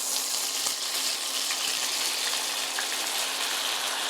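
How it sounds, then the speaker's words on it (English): Vegetable broth pours into a pan of frying Parmesan-panko meatballs, a loud, steady rushing hiss that fills the whole stretch without a break, close by. "I'm gonna add a little bit of vegetable broth"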